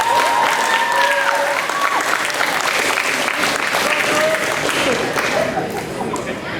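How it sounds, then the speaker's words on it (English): Dense, sustained applause from an audience at a middle school eighth grade awards ceremony, loud and even throughout with faint cheering voices mixed in, easing slightly at the end. "I notice my applause is a little louder than Mr. Paxton"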